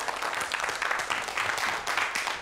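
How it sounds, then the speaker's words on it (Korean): A studio audience applauds steadily to welcome a high school teacher onto the stage of a televised lecture show, a dense, even wash of many hands clapping at moderate distance. "광신고등학교의 김흥규 선생님을 큰 박수로 맞이해 주세요"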